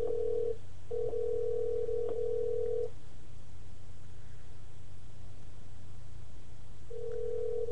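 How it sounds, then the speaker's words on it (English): A telephone ringback tone sounds in long steady beeps separated by a pause, over faint line hiss. "It's ringing."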